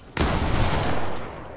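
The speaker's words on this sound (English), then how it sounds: "why do you have a drum gun? Drum guns are viable." A drum gun fires in Fortnite, a dense rapid burst of gunfire lasting about a second before trailing off.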